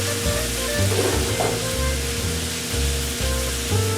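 Spam sizzles in a pan over slightly reduced heat, a steady close crackle half buried under loud background music, with no one speaking.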